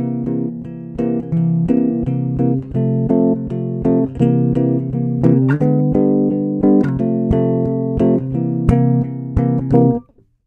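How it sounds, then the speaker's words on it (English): A 12-bar blues progression strummed steadily on a guitar, one chord after another in a repeating pattern, ringing clearly until the final chord stops. "we often hear what's called a blues progression, a 12-bar blues"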